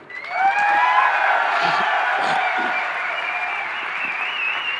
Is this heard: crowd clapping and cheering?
yes